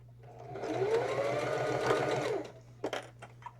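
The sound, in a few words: sewing machine stitching a fabric Kindle book sleeve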